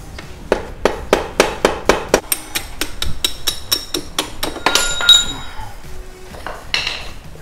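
A DRZ400SM swingarm's main pivot axle is driven out with a run of sharp metallic hammer taps, quickening into ringing clinks, then a few scrapes and a faint tail of metal rattle.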